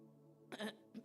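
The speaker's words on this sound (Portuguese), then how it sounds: "Pigarro da manhã." A single close throat clearing, two quick rough bursts after a moment of quiet background hum.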